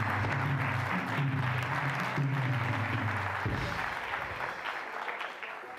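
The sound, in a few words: church congregation applauding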